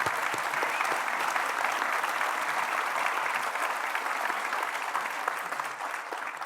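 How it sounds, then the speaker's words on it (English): Dense, steady audience applause fills the room at a teen mental health community talk, honouring a volunteer who worked alongside a youth minister; the clapping stays loud and even throughout, with no voices over it. "Let's give you a round of applause for Alice."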